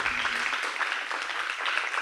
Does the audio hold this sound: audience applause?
yes